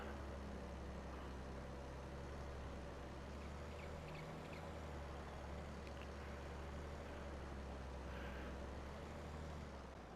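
A tractor engine in Farming Simulator 22 drones steadily with a low, continuous rumble, close and unbroken, with faint mechanical clanks over it.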